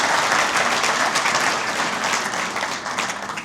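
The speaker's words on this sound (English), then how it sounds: "how about a round of applause for John and everyone at the Water Resources Center staff" An audience gives a round of applause for the Water Resources Center staff at a pond plants and biota event, a loud, dense burst of many hands clapping that tapers slightly toward the end.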